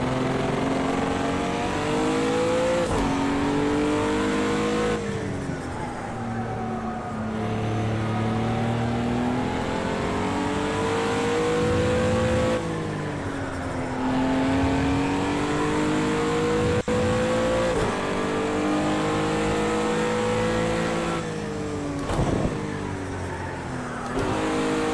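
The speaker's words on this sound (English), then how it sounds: "drifts are brutal on the motion rig" Race car engine in the Project Cars 2 video game, drifting on a motion rig: a loud, continuous engine note climbing and dropping in pitch with repeated revving swells, close and dominant throughout.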